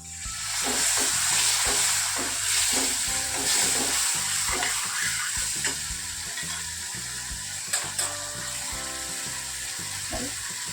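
Spiced masala for Kathiyawadi-style dal fry sizzles steadily in a pan after a little water is added, with soft stirring under the continuous hiss.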